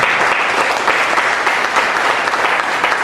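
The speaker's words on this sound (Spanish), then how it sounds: "Esto merece un aplauso al Señor." A church congregation bursts into loud, sustained applause, a dense wash of many hands clapping steadily throughout with no pauses.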